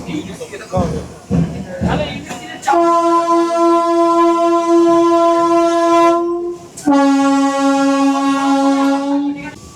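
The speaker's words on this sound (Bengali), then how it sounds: "ছেড়ে দিল আমাদের ট্রেন নিউ বঙ্গাইগাঁও" A Vande Bharat sleeper train sounds two long, loud horn blasts as it departs New Bongaigaon station, the first about four seconds and the second about three, after a stretch of nearby talk.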